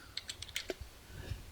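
Short, crisp computer clicks, several scattered across the moment with a few sharper taps, as a mouse is used to save a graphics file at a desk; fairly quiet with room noise and no talking.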